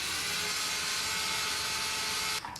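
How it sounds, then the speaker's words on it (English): A thin drill bit bores partway into a craft address plaque, giving a steady, loud, continuous whirring grind that runs unbroken for over two seconds before cutting off abruptly at the end. "you will also need a drill for drilling these in"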